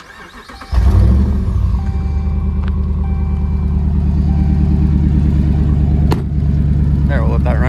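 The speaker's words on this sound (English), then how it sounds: "First step is you're gonna wanna let your truck warm up for 5 to 10 minutes to get the oil up to temperature." Dodge Ram 1500 truck with a 5.7L Hemi engine starting and then idling as it warms up, a loud, close, steady low rumble with a faint voice briefly heard over it.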